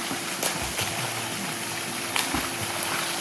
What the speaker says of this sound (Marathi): मस्त धबधबा आहे बघ